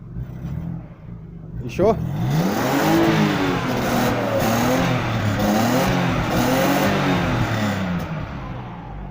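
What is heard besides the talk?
Opel Omega B 3.0 car revving with modified exhaust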